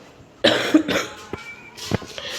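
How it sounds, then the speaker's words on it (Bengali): Several harsh coughs close up, a burst of two or three, a short pause, then another cough, with no talking. "প্রচণ্ড কাশি কাশির জন্য কথাই বলতে পারছি না"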